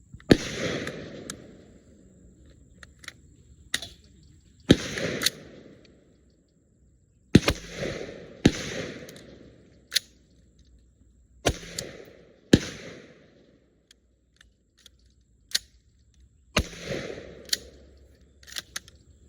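Rifle shots at a shooting range during a Titan technical test shoot, about a dozen sharp cracks with echoing tails, spaced irregularly and sometimes in quick pairs, loud and close with no talking.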